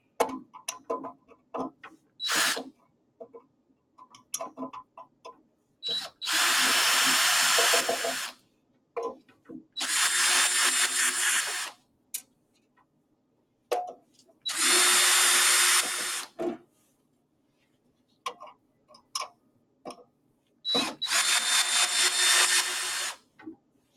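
A power drill backs out six screws from the top of a casing in four loud, steady whirring bursts of about two seconds each, separated by quiet clicks and handling noises.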